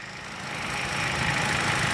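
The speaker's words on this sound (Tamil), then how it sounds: "இப்போ லைட்டாக ரேஸ் பண்ணு" A car engine at a used-car sale is revved lightly, a steady close hum that rises a little in loudness across a couple of seconds, with no voices.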